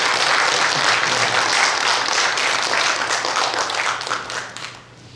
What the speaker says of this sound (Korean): 우리 박수로 앞으로 기대하면서